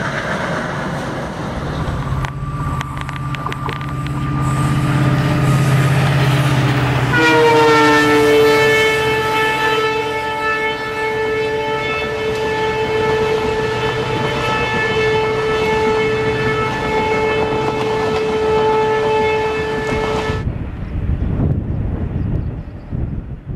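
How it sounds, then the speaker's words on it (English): Indian Railways train hauled by brand-new twin WDP-4D diesel locomotives sounds a long, loud, steady horn blast over rumbling running noise, then the horn cuts off and the rail rumble carries on. "Train journey to Beer for spotting the brand new WDP-4D twins."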